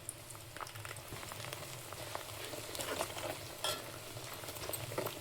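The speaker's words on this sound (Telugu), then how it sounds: "మందారాకులు వేసుకుంటున్నాను." Hibiscus leaves dropped into hot oil with curry leaves for homemade hair oil, a quiet continuous sizzle and bubbling with light stirring clinks, close up and with no talking.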